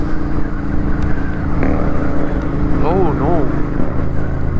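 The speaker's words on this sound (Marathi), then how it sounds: "कुठली R1 आहे वाटतं, पण R1 ला भाईने लय मॉडिफाय केली आहे भारी. आवाज ऐका तुम्ही त्याचा गाडीचा" A heavily modified Yamaha R1 motorcycle's exhaust gives a steady, throaty engine note nearby, while a person speaks and exclaims over it.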